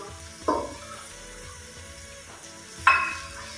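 A spoon stirs a ker sangri vegetable mixture with red chilli, amchur, salt and raisins in a pan, two distinct scraping strokes over a soft, quiet sizzle.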